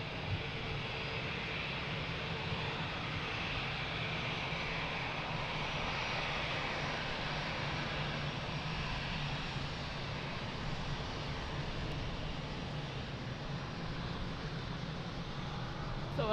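A fixed-wing airliner landing at Lisbon Airport, heard as a steady, continuous engine roar with broad rushing noise, sustained and fairly even throughout without any talking.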